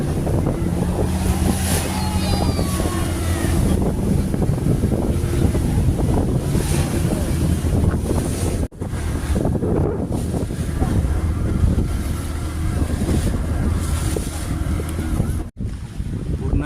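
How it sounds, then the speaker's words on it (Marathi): A passenger boat heads across the sea toward a fort near Alibaug, with loud, constant wind buffeting, rushing water and engine drone, interrupted by two brief dropouts. "सुरू झाली आता बोट किल्ल्याजवळ जायला."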